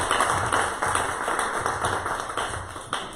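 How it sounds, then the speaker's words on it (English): A room of attendees at a community business meeting gives a round of applause, a continuous, even patter of many hands clapping with no talk over it. "let's give her a round of applause"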